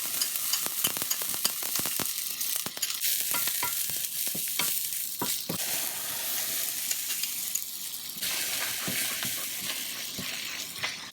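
Onions, drained first, frying in a pan ahead of eggs, giving a steady crackling sizzle with frequent sharp pops and spatters and occasional stirring clinks, close up and fairly loud, with no talk.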